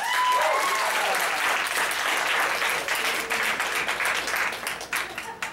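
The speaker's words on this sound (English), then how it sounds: "If you felt your fingers move, you thought that was weird, clap your hands" A hypnotist show audience claps hands in a full, continuous burst of applause that thins toward the end, individual claps becoming more distinct.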